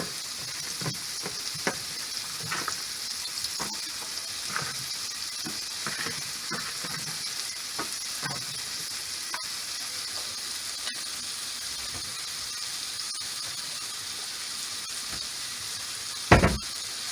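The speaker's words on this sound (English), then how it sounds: "I'm adding some baby portobello mushrooms" Baby portobello mushrooms sizzle steadily in browned butter and olive oil in a pan, a constant close frying hiss with scattered pops and a few soft stirring scrapes, ending with a brief louder clatter.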